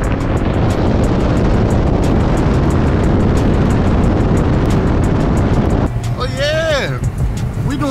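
An Infiniti Q60 pulls hard from a dead stop on a snowy surface, a loud, roaring engine blast sustained for several seconds before the engine note sweeps and wavers near the end.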